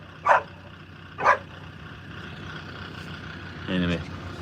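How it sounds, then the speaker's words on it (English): Two sharp, clear dog barks about a second apart, followed by a short whining yelp, against a low rumble of machinery rolling a grass bog. "What are you barking at?"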